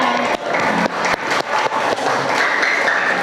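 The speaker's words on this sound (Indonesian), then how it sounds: "Oke, beri tepuk tangan." A school class claps together after a student presentation, a short burst of brisk, uneven applause from a group in a room, loud and close, with faint voices underneath.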